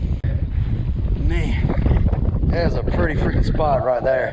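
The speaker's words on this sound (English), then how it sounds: "sorry about the wind, y'all" Wind buffets the microphone on a small fishing boat out on the water, a constant loud rumbling roar that runs the whole time while someone talks over it.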